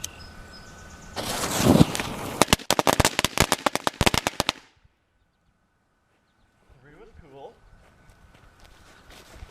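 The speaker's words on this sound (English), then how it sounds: "So they're kind of like little mini fireworks, not necessarily firecrackers, but still pretty cool." Small homemade firecrackers with short, fast-burning fuses pop off in a rapid, loud burst of sharp cracks, like miniature fireworks, then fall silent before faint background sounds return.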